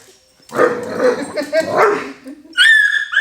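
Falcor the dog gives a few playful yips and barks, with whimpering and a person talking alongside, up close.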